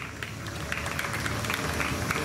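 Audience at a fair show clapping together, a dense, steady round of applause from a crowd close by with no speech over it.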